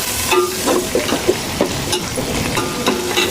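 Coriander and mint frying in a pan for Hyderabadi bagara rice, with a steady close sizzle and repeated scraping stir strokes throughout, no voices.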